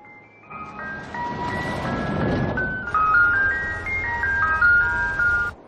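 An ice cream truck plays its tinkling electronic jingle, a bright melody over a background rumble, moderately loud and steady throughout.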